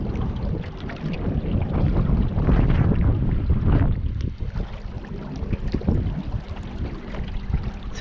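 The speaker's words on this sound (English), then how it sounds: "now we got the wind to our backs" Wind buffets the microphone on the Colorado River near Hoover Dam, a loud, continuous rushing roar with gusts swelling and easing throughout.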